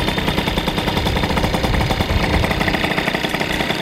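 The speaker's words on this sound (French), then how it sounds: "Le moteur, il est monté et il démarre, enfin" A Derbi DRD Pro 50cc moped's two-stroke engine, freshly rebuilt, putters loudly and steadily in rapid, even pulses, close by, with no talking.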